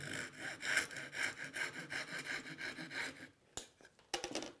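A hand saw cutting the dovetail shoulders off wooden boards, making a close, rhythmic back-and-forth rasping of quick strokes for about three seconds, followed by a few brief knocks and rustles.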